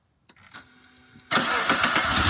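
A car engine, warmed up after alternator work and idling a little low, turns over faintly and then catches, running loud and steady for the final second.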